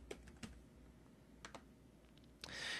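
Quiet computer keyboard typing during application setup, a few sparse keystroke clicks spaced apart, followed by a short faster burst of keys near the end, close and clear with no talking.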